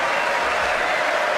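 A brief burst of clapping at a political speech, a dense wash of many hands sounding continuously with no break.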